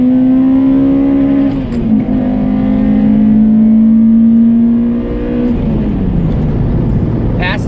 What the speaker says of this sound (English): Passing someone in this car is incredible. It's so easy. You just throw it second and go.